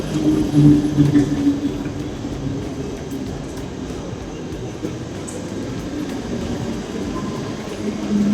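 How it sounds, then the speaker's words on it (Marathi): Steady low rumble of a Panvel-bound train pulling away, a continuous rolling drone with faint rattles, fairly loud and without talk. "बघू शकता आपली ट्रेन पण निघाली"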